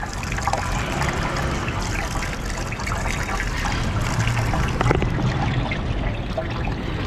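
Drinking water runs steadily from a public street fountain in Madrid, a continuous close splashing trickle with outdoor background noise and no talk.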